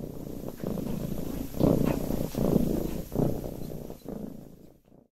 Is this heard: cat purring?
yes